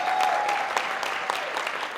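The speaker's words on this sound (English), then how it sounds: "Can we give this event a round of applause?" A crowd at a Black Heart Association heart health awards event gives a short burst of continuous, dense applause at an even level.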